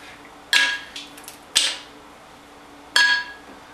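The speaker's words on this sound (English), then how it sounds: "And one more ice cube." Three separate ice cubes drop into a glass blender jar, each a sharp, bright clink with a short ringing tail, spaced about a second apart in a quiet room.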